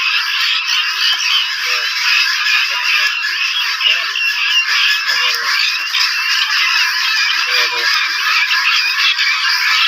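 A flock of guinea fowl on a farm in Gazipur, Bangladesh cackles loudly and continuously in a dense, harsh chorus, with a faint voice murmuring now and then underneath.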